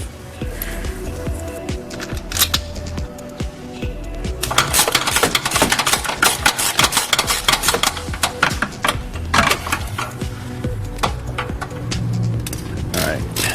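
A ratchet wrench tightens the starter motor bolts on a 700 hp GT500, making rapid irregular clicking bursts up close, with faint talk in the background.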